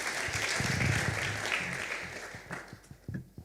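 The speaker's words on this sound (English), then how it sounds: "Let us applaud as" Audience applause at the International Wildlife Scientific Conference as a ministry representative comes forward, a steady wash of clapping from a fairly close crowd that gradually tapers with a few louder claps near the end.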